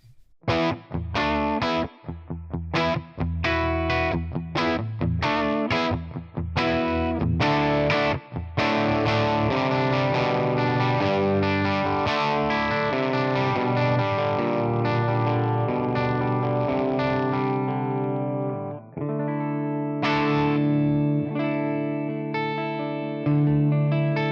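Electric guitar played through a Tonex One modeling a Magnatone Edge Fat amp: thick, distorted chords and riffs with choppy stops, then sustained ringing notes and a final strummed chord, loud and alone.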